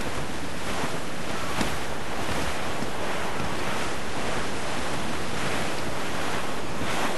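Ocean waves and gusting wind roll on steadily while sailing a ship in the video game Assassin's Creed IV Black Flag, a dense, continuous rush of surf and wind noise with no pauses.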